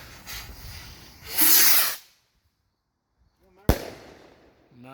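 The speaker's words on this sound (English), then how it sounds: "Those are pretty good rockets, guys." Supreme Fireworks Flying Piggy rockets: a loud rising whoosh of a launch, then a near sharp burst with crackling, and short voiced reactions after.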